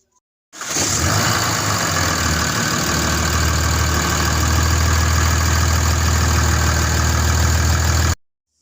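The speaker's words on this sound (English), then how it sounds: "we're going to see if it'll get ready to start, and then that's how you put a starter on a Dodge pickup" A 2007 Dodge Cummins 3500 pickup diesel, just fitted with a new starter, fires up abruptly and settles into a loud, steady close-up idle that runs for about seven seconds before cutting off.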